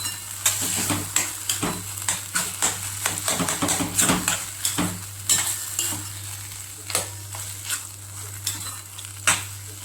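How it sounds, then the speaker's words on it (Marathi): A spoon scrapes and clatters while mashed roasted brinjal bharit is stirred in a pan over a low sizzle, with irregular close knocks against the metal repeating over a steady background hum. "आता हे व्यवस्थित मिक्स करून घ्यायचं."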